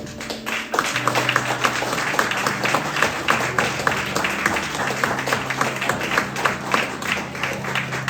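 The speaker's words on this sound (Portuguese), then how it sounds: "Homens, por favor, aplauda ao Senhor." A church congregation applauds the Lord in dense, steady clapping that fills the room for several seconds, with a low sustained tone running underneath.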